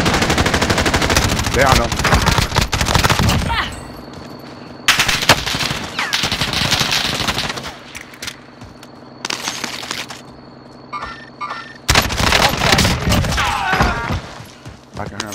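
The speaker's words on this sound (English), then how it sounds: "I can hear him shooting" Bursts of automatic gunfire in a Call of Duty Modern Warfare multiplayer match, rapid loud volleys separated by short lulls, with a player speaking briefly over the shooting.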